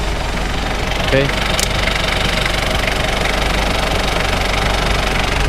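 Chevrolet Luv engine running with a steady, continuous knocking rumble as the throttle is blipped slightly during a radiator check, with a brief voice near the start.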